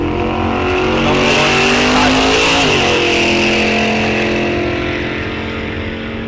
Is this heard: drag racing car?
yes